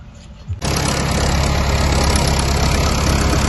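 A loud tractor engine starts up after a brief quiet moment on a field being cleared of poplar roots, then runs with a steady, heavy rumble that continues to the end.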